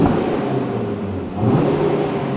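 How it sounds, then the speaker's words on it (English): An Audi RS3 8Y engine rumbles and revs steadily at close range with its exhaust valves shut, a low throaty drone that swells briefly midway. "It sounds exactly the same now with valves shut as what it used to with valves open."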